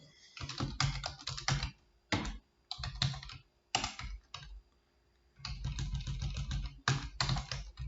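Computer keyboard typed on in quick bursts of close, crisp key clicks separated by short pauses, with no voices.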